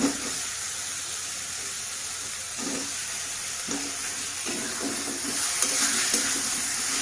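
Cut potatoes sauté in a spice masala for rohu fish curry, a soft, continuous sizzle and bubbling with a few muffled stirring bursts at close range.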